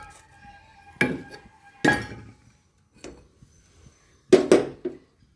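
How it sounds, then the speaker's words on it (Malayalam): Small chopped pumpkin pieces for a curry are dropped into a pot in a home kitchen, giving a few separate sharp clinks and thuds with quiet pauses between them. "അപ്പം ഞാൻ മത്തങ്ങ ഇട്ട് കുഞ്ഞായിട്ട് അരിഞ്ഞത് ഇങ്ങനെ ഇടുവാണ്."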